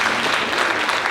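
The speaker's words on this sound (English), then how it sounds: "Let's clap it up, let's clap it up." A convocation audience claps for the new teachers, a dense, loud burst of many hands clapping together in a large room.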